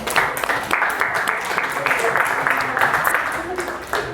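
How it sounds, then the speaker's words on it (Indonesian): Classroom audience applause for a university teacher-training group presentation, loud continuous clapping close by that holds steady throughout, with some voices mixed into the crowd noise. "tepuk tangan untuk teori genetik."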